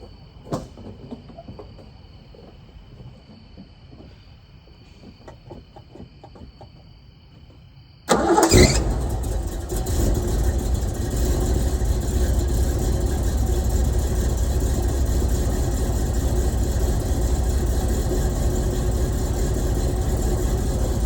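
An old Ford F-250 pickup truck engine cranks briefly and catches, then settles into a loud, steady rumbling idle, close by, with crickets faintly audible before it starts.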